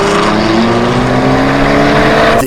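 A BMW X5M with a custom Akrapovic exhaust gives a loud, close engine drone that holds steady and then rises slightly, with no voices.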